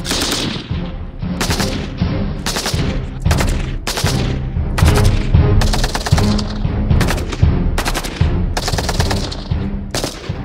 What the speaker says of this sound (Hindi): रॉकेट लॉन्चर को फायर किया गया है